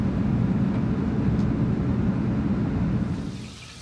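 Steady broadband rush of a Luxsego ionic shower head spraying water in an Airstream bathroom, loud and continuous, tapering off near the end with no talk over it.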